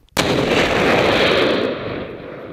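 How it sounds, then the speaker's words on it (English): A controlled IED blast set off as a training demonstration erupts with a sudden loud boom, followed by a sustained roaring rumble and debris wash that slowly tapers, with no voices. "this explosion was a controlled demonstration for Uruzgan judges to show them the signs and effects of different IED blasts"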